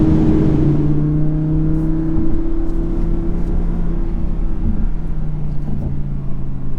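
An Audi R8 V10 Performance on a top speed run in performance mode, manual, gives a loud, sustained engine drone with steady tones held high and even throughout, heard from inside the car.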